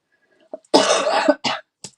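A single sharp cough followed by a couple of short throat-clearing bursts, close and loud against silence.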